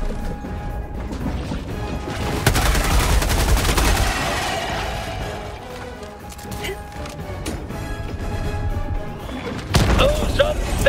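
Gunfire in the video game Helldivers 2: bursts of rapid shots and metallic mechanical clatter, loud and close, mixed with crashing impacts throughout.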